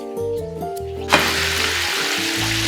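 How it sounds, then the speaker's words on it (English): Chicken pieces frying in oil preheated to 350 degrees Fahrenheit, a sudden burst of dense sizzling that holds steady under a droning tonal hum, close up. "the chicken is frying nicely in the oil, which was already preheated at 350 degrees Fahrenheit"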